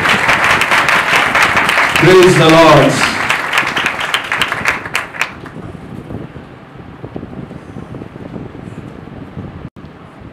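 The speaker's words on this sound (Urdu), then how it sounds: "زوردار تالیاں یسوع کے جلال کے لیے" A church congregation bursts into loud, sustained applause while a voice calls out over it; the clapping peaks early, then thins into softer scattered crowd noise and room murmur.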